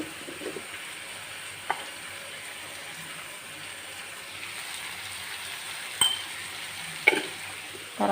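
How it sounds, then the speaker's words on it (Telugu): Cut green chillies frying in hot oil in a pan for a Telugu vegetable dish: a steady, soft sizzle throughout, broken by a few sharp pops and clicks near the end, with no talking. "కట్ చేసి పెట్టుకున్న ఈ పచ్చిమిర్చి కూడా వేసేస్తున్నాం"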